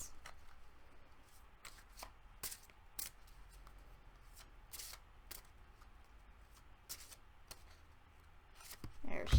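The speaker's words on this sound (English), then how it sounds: "I'm going to tune in and pull a few cards for us" Tarot cards shuffled and drawn by hand at a reading, a string of quiet, sharp riffles and taps spaced unevenly, close and soft against a hushed room, with a louder rustle at the very end.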